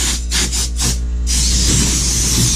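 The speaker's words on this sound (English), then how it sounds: "taking this compressor and blowing out all the potential debris" An air compressor nozzle blows debris off sculpture relief casts in short pulsing bursts, then settles into a steady close hiss of air.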